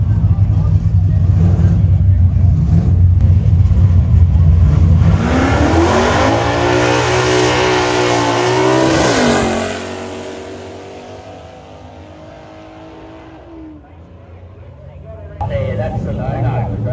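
Modified street cars launching in a drag race final at a lakeside strip, engines roaring loud and close, then revving up through the gears as they pull away and fade, with a commentator talking over them.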